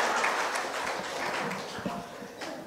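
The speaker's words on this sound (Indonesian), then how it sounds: "Tepuk tangan bagi Tuhan yang melihat sabar metakilnya kita." A church congregation claps hands during a sermon, a moderately loud, uneven patter of many hands that gradually eases off, with a few sharper claps near the end.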